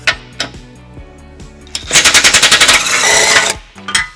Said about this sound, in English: Each side is held in by 3 bolts and 1 nut. And we're going to remove those using a